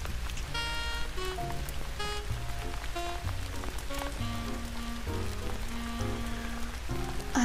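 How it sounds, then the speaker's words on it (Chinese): Steady rainfall in the life-simulation game The Sims 4, a constant soft hiss of rain layered under gentle melodic background music, even in level throughout. "一直在下雨。"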